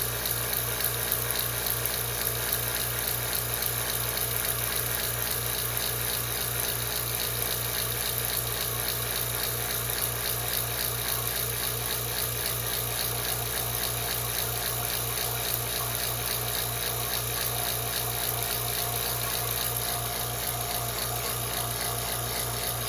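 Liquid nitrogen boiling steadily as it cools toward freezing, a continuous bubbling hiss with a low hum beneath, even and unbroken throughout with no voices.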